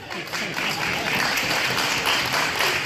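Steady applause from an audience at a fundraising dinner in Frankfurt, right after a couplet is recited, a continuous mass of clapping hands that holds at an even level throughout.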